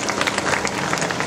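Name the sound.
audience applause at a women's day event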